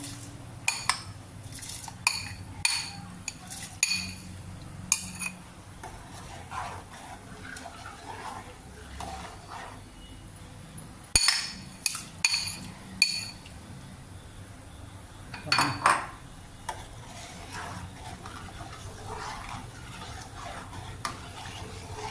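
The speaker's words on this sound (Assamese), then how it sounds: "এই চাউলটো দিয়াৰ পাছত এনেকৈ লৰাই থ'ব" Rice being stirred into milk in a pot for payas, with repeated metal clinks and scrapes of a ladle against the pot over a low steady background, close by and in irregular bursts, with no voices.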